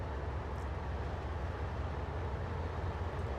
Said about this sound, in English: And the freight train's in our way.